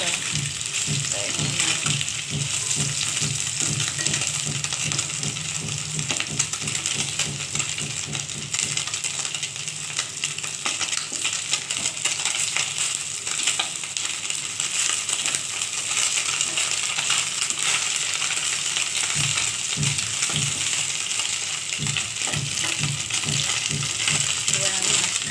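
Frozen morola fish fries in a pan for a gondhoraj lemon recipe, with a sustained close crackling sizzle and scattered sharp spits and clicks that keep going throughout.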